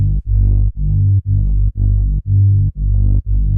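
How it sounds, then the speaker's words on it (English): Reese bass synth for electronic music following root notes, heavy and buzzing in the low end, played as a series of sustained notes about half a second long, each separated by a brief gap, loud and alone. "I've gone for a Reese bass, which is a classic electronic music bass sound,"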